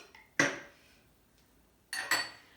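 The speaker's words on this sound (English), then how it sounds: "So I'm going to stir this one" A spoon stirs a pink mocktail in a glass, giving one sharp clink, a quiet pause, then two quick clinks in a row, close and clear with no talking.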